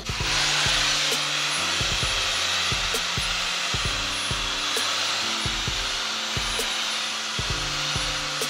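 A hair dryer fitted with a diffuser runs on a medium-high setting, giving a loud, steady airy whir with a low motor hum that continues without a break.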